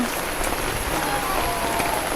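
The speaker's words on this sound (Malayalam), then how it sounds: "ഇന്ന് നല്ല മഴ ഇല്ല കേട്ടോ ഒന്ന് ചാറി ചാറി ചാറി നിൽക്കണു" Light rain drizzles steadily in a dense, close patter of fine drops that continues evenly without pause.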